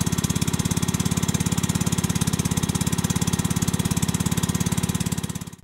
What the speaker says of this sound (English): It is fitted with 25cc 4-stroke 1HP Honda engine.